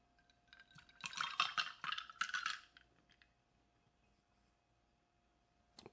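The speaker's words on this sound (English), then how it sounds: "we're gonna pour it all in the glass, right? Ice and all." A Snickertini cocktail poured with its ice into a glass: a burst of clinking and splashing over about two seconds, fairly close, then near silence and one last faint clink.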